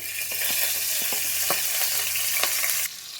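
Onions sizzle loudly in butter and oil for restaurant-style butter broccoli, a dense steady frying hiss broken by a few stirring scrapes, cutting off abruptly near the end with no talking.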